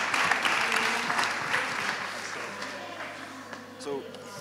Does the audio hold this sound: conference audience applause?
yes